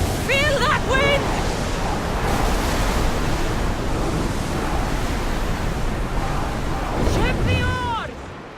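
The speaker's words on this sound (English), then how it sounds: "The sea is calm and the winds are warm." Sea waves and wind rushing steadily while sailing a ship in the video game Assassin's Creed Odyssey, a loud, continuous wash of noise with brief voices at the start and near the end.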